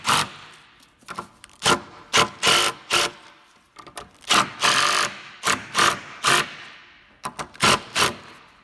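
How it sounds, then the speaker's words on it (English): A handheld power tool drives screws into a wooden skate ledge in bursts of high whirring and grinding, a dozen short runs separated by brief pauses, close and loud. "when we screw these properly, we're going to want the heads of the screws to be just below the surface"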